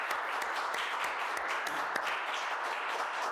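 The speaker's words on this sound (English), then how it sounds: "we owe you a round of applause" A crowd applauds steadily in a meeting hall during a county budget presentation in East Fishkill, with dense overlapping claps sustained at an even level throughout and no talk over it.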